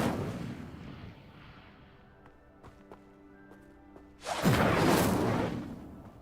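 An Incendio fire spell cast in Hogwarts Legacy: after a low rumbling lull, a sudden loud whooshing burst of flame flares up and holds for about two seconds.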